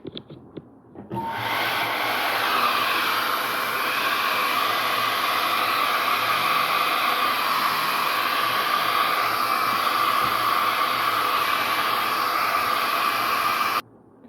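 A hair dryer switches on after a brief pause and blows a steady, loud rushing hiss for about twelve seconds to dry a watercolor painting, then cuts off abruptly.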